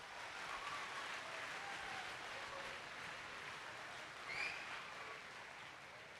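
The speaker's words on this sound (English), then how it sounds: "Give yourselves a round of applause." Applause from a school Veterans Day assembly audience, a steady continuous wash of clapping at moderate distance, lasting throughout with no speech.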